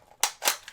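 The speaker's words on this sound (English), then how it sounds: "So again, pop off M4 mag." Airsoft M4 magazine popped out of the rifle: two sharp close plastic clicks about a quarter second apart, followed by a fainter third click.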